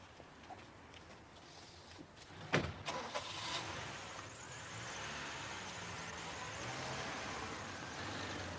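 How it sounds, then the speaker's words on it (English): A car door thumps shut, then an engine starts and the car pulls away, its motor rising to a steady drone at night on a residential street, with no talk. "And then Sandy drove the car, it would seem, back to his own flat in Willigarth Avenue."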